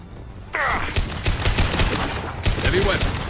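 Heavy-weapon gunfire from Mass Effect 2 rattles out in loud, dense bursts of blasts and impacts, with a fresh volley hitting after a brief lull, all close and without talk.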